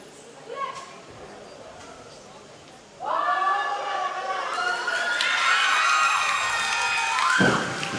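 Crowd at a weightlifting competition bursts into loud cheering and shouting for a male lifter, rising suddenly after a quieter stretch and sustained with whistles and high voices until it cuts off near the end.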